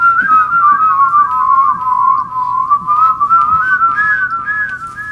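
A person whistles a wavering, meandering tune nonstop for several seconds, close and fairly loud, with a faint low hum underneath and no talking.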